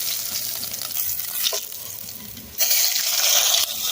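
Meat and natural seasoning fry in a pot over an outdoor backyard fire, a loud, steady close sizzle that swells louder partway through as more goes into the pot.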